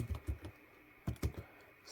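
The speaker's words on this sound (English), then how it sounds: "To do so, we have to type sudo mn -- topo equal to single" Someone types a command on a computer keyboard: a handful of quiet, close key clicks in uneven bursts, a few taps, a short pause, then another quick cluster.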